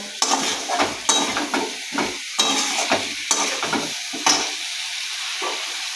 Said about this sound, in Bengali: ভালো করে যতক্ষণ তেল না ছাড়ছে, আমি ততক্ষণ এই আলুগুলো আমি ভালো করে কষবো।